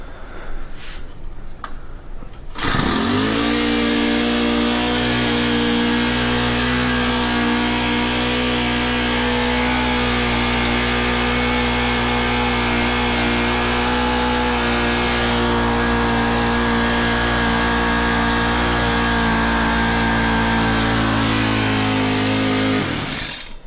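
A Honda FG110 tiller engine with a throttle cable nut set too tight, so it will not idle, starts after brief rattling and then runs loud and steady at high revs with a slight surge, close by and with no talk.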